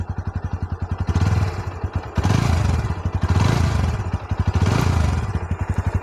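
A Bajaj Pulsar N160 BS6 E20 motorcycle engine runs close by in a loud, evenly pulsing idle that swells in a few gentle revs.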